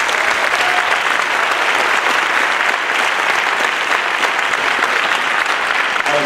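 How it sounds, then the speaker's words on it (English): A school concert audience claps steadily for a sixth grade middle school band after its first hard piece. The applause is dense and even, holding at full strength from start to finish. "I want to always give them a round of applause for that first hard piece"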